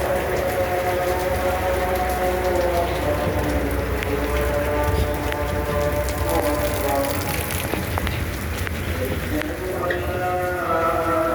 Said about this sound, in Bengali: দেখেন বৃষ্টি। আজকে প্রচুর বৃষ্টি হয়েছে।